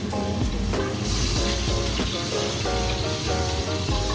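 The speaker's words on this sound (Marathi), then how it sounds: "अर्जित बनवत आहे पोहा." Poha cooks in a pan with a steady, loud sizzle throughout, broken by soft scraping stirs, with no talking over it.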